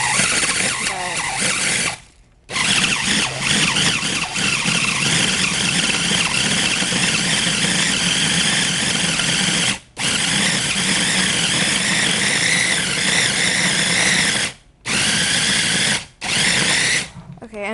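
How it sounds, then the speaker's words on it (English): Dates blended in an ordinary food processor: a loud, steady, high motor whir runs continuously, broken only by a few brief pauses where the blade stops and restarts. "So this can be a little tricky with just like a regular food processor."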